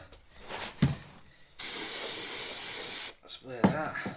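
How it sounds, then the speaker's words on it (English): Silicone spray hissing onto a plumbing pipe seal during a bathroom first fix, one steady burst of about a second and a half, close and fairly loud, with brief quiet speech before and after. "silicone spray"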